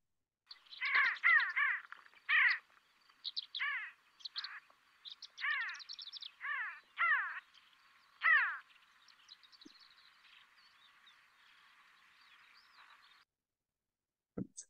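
A sandgrouse gives a series of calls, short gurgling, bubbling notes repeated in irregular bursts, fairly faint and distant over a quiet background, then fading out.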